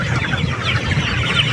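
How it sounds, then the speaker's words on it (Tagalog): Many chickens cluck and squawk together nearby as they are loaded for harvest on a farm, a dense, busy chorus of overlapping calls over a low background rumble. "Nagkarga na yung ating manok dyan na kukunin."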